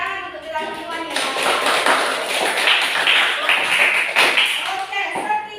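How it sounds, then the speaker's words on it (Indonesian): A classroom of schoolchildren claps together, a dense, fairly loud burst of applause that swells after the first second and continues for several seconds, mixed with children's voices and a teacher speaking. "Tepuk tangan untuk kita semuanya."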